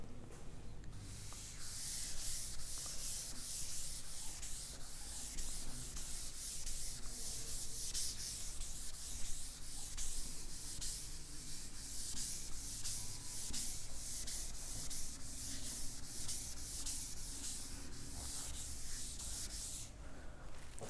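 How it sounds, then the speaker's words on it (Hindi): An object is rubbed back and forth by hand, making a continuous scratchy brushing sound with a rhythmic back-and-forth pulse that stays close and steady for about twenty seconds. "इसको मैं रब कर रहा हूँ"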